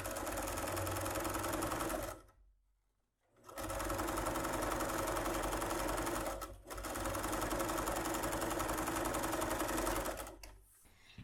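A sewing machine runs in long, steady bursts while stitching the lining of a makeup bag, its close mechanical whir pausing briefly twice before starting up again.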